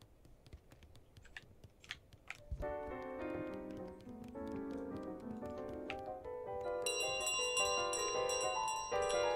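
A bell in the Untitled Goose Game video game rings as the goose carries it along, starting with scattered taps and then settling into a steady, bright, repeating chime that keeps going with game music.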